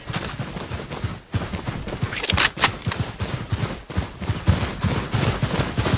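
Rapid gunfire from the video game Valorant, in bursts of sharp, close shots that rise and fall across the whole stretch with little pause.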